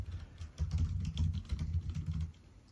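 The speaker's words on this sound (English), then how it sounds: "So if I type up here" Steady typing on a computer keyboard while editing text in the Vim editor, a close run of quick soft key clicks with low thumps for about two seconds, no talk.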